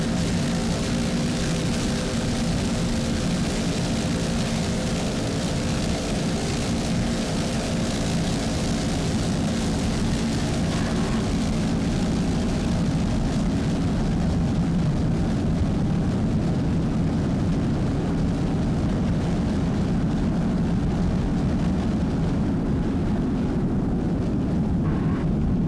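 Helicopter rotor and engine drone from overhead filming of an offshore powerboat race, a loud, continuous roar that holds steady across the whole stretch with no voices.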